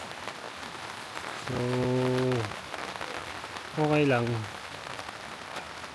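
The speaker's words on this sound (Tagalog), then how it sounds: "Yan, umuulan ngayon." Rain falls on a campsite as a steady soft hiss throughout, with a person speaking twice in short phrases over it.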